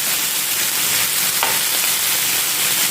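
Chicken masala fries in a pan, a steady dense sizzle close by with a brief stirring scrape in the middle, no talk.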